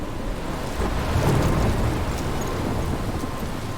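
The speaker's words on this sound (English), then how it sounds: "I'm trapped in a storm?" Thunderstorm with rain in the video game Life is Strange Remastered: a dense, steady hiss of heavy rain with a low thunder rumble swelling around the middle, loud and continuous with no voices.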